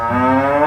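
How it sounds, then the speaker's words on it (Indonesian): A cow moos once in a loud, close, sustained low call that fills the whole clip, likely from a toy. "Wih, ini ada hewan sapi."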